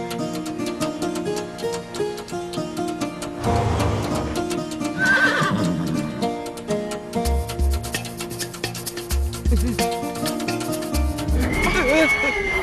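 Horse neighing loudly in an animated story with music, whinnies rising over hoofbeat-like clip-clops, while voices talk throughout.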